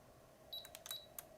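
An early Canon point-and-shoot digital camera fires after a noticeable shutter lag, giving a few faint, quick electronic beeps and mechanical clicks close by in a quiet room.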